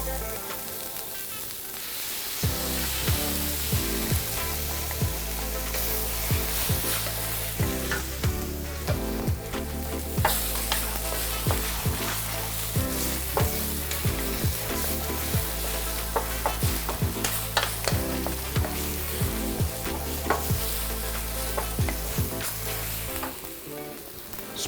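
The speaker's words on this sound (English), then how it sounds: "to my mixture with the pork, I'm gonna go ahead and add my beaten eggs" Beaten eggs sizzle and fry with a pork mixture in a pan for a green chilaquiles dish, a steady loud crackle with repeated scraping stirs and background music underneath throughout.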